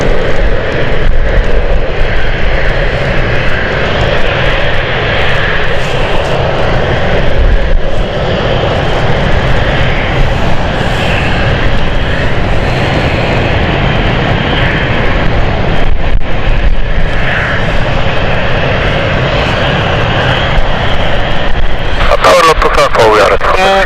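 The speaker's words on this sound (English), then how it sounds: "Lux Air, I believe, is taking off." A Lux Aviation aircraft takes off at London City airport on a stormy, wet evening, its engines a loud, continuous roar that fills the whole stretch, with a voice talking over it.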